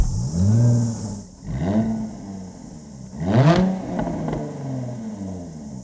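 A Jaguar F-Type V6S sports car engine fires up close by and is revved several times, each blip rising and falling with a throaty, loud roar before settling into idle.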